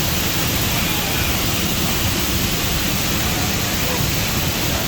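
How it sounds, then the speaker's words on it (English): Broadband roar of a waterfall pouring down, heard from right behind the falling water on a walk in the Brecon Beacons; loud, dense and continuous without a break. "We're under a waterfall."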